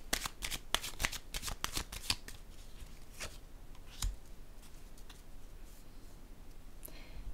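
Tarot cards being shuffled and handled close up, with a run of crisp riffling snaps at first that thin into soft sliding and occasional taps, fairly quiet with no talking.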